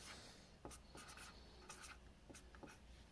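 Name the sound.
writing on a label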